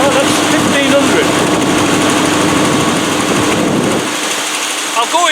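A Land Rover NATO 110 with a V8 engine idles on a cold start, a steady loud close rumble with a slight rhythmic pulse that drops off toward the end.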